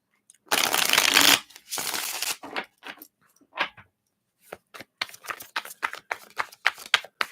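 Cards riffled in a loud burst, then a second shorter riffle, followed by a string of crisp taps and snaps as the deck is squared and bridged.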